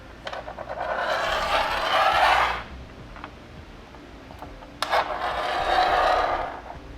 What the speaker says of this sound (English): Now we'll slide one of our T-bolts to the front.